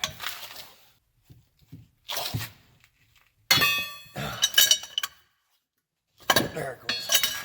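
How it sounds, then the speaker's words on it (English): Metallic clanks and clinks from a 3/8 drive ratchet extended with a pipe as bolts are broken free on a Dodge Ram 4x4 wheel hub, coming in several separate bursts between quiet gaps. "I'm going to be using this pipe on the end of my ratchet to get more leverage, and they should break free"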